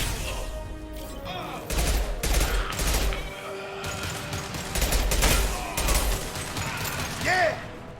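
Bursts of rapid automatic gunfire in Mass Effect 2 Legendary Edition's Quarantine Zone, loud and close, coming in several volleys with brief gaps, mixed with game effects and occasional voices.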